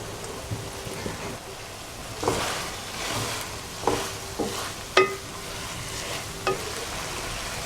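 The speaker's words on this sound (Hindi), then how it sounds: "ये मैंने जो आलू फ्राई किए थे ऑयल में, इसको मैं डाल देता हूँ" Fried potato cubes tipped into a pan of aloo shimla mirch, giving a steady soft sizzle with a few sharp scraping and stirring knocks scattered throughout, close and fairly quiet.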